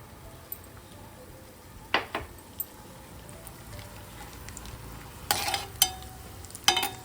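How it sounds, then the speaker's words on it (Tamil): Cashews roasting golden in a pan for kesari: a faint, quiet sizzle with a few scattered bursts of stirring scrapes and clatter. "நல்ல முந்திரி வந்து கொஞ்சம் பொன்னிறமாக நல்லா வறுத்துக்கலாம்"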